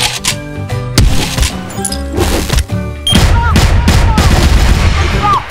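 Rapid gunfire in the shooter game CrossFire during a ranked match, dense bursts of shots and weapon sounds that are loud and close, with a few sharp louder blasts, continuous throughout.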